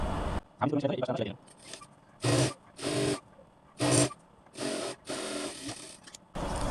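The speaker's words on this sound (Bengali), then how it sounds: "এখন আমরা এই সাইডের এক পাশের একটা সেলাই দিয়ে দেবো" A sewing machine stitches the side seam of a six-panel petticoat in short, loud whirring runs of roughly half a second each, broken by pauses. A brief rustle of fabric handling comes near the start.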